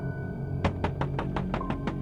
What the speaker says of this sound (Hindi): अब वो काफी जोर से नॉक करता है।